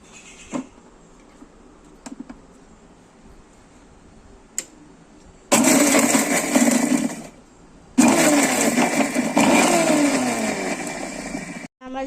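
A mixer grinder crushes roasted ingredients in two loud, sustained whirring bursts separated by a brief pause, after a few faint ticks and knocks while the lid is set.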